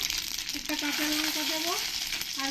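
Half a spoon of mustard seeds and two dried red chillies hit hot oil in a kadai, setting off a loud, steady, close sizzle with small crackles and pops throughout, and no voice.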